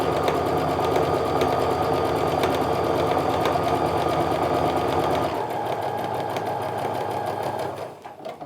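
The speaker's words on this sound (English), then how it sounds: "I'm just going to sew down now the other side of that drawn line" A sewing machine stitches a quilt seam in one long, steady run of rapid needle strokes that eases down near the end and stops, loud and close with no talk.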